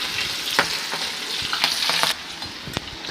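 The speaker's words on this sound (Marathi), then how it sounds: "तेल आता चांगले तापले, मी आता भेंडी त्यात टाकून घेणार आहे" Okra frying in very hot oil, a steady crackling sizzle broken by sharp clicks and scrapes as it is stirred, close up, with no talking.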